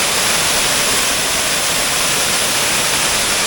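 Water gushing out from beneath balete tree roots in Valencia, Bohol, a loud, steady broadband rush with no breaks, close by.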